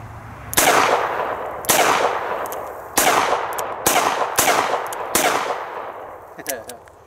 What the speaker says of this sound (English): So there's 6 rounds, and I'm gonna do a couple double action and single action pulls to make sure it's lighting on both sides.